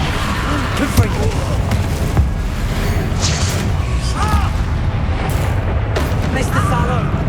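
Blasting curses and spell explosions thud and boom repeatedly amid battle in Hogwarts Legacy, with booming impacts under shouted spell incantations and crackling effects.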